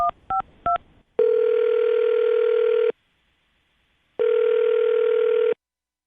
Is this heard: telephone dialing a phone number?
yes